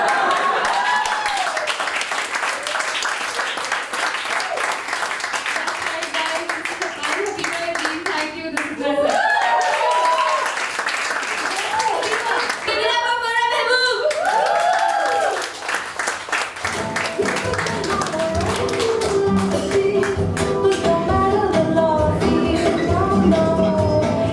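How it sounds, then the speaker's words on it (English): Audience clapping at a stand-up comedy festival in Karachi, rhythmic and sustained throughout, mixed with laughter, chatter and a performer talking over it. "You guys clap"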